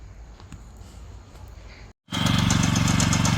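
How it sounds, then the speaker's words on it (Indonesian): A small motor cultivator digs trenches in a field planted with Chinese cassava, first idling and rattling at moderate volume, then after a brief gap bursting into a loud, close, steady engine drone. "Pembuatan parit di sini menggunakan mesin kapilator."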